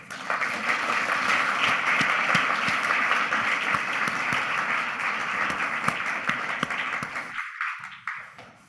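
An audience applauds to welcome a speaker to the stage at a pain-therapy talk: steady, full clapping from a crowd that tapers off near the end, with a few louder individual claps.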